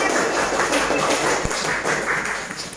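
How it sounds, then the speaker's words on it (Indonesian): Children clapping their hands together in a classroom, a dense, steady burst of claps that carries evenly through the whole moment at close range. "Iya, hebat tepuk tangan."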